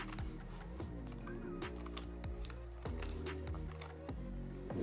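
Rapid clicking keystrokes on a computer keyboard used to play Warzone on a PS4, continuous close typing under game sounds with a low musical drone, no talking.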